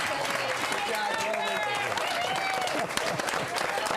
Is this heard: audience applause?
yes